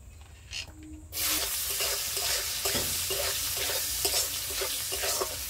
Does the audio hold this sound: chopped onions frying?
yes